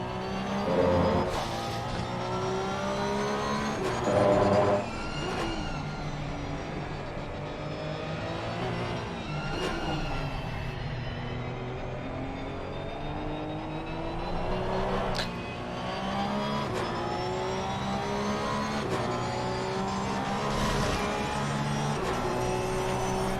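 A Porsche 992 Cup race car in a racing game at Zandvoort, its engine droning steadily and loudly throughout, rising and falling in pitch through gear changes, braking and corner exits, with no talking.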